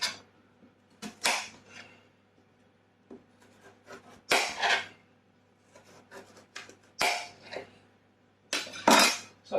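A knife chops through food on a wooden board in a home kitchen, several separate rasping slices and thuds in irregular clusters, close and clear with quiet gaps between them.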